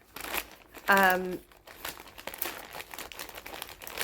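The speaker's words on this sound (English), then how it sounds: "Sorry for the crinkle." A parcel's plastic packaging crinkled and rustled up close as it is opened, with brief sharp crackles throughout and a short hum or voiced sound in the middle.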